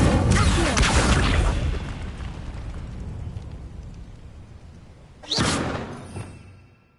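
Spell effects from Hogwarts Legacy, Incendio and Accio, heard as a loud whooshing fiery burst with a rumbling tail and a later sharp magical blast that fades out, with no speech.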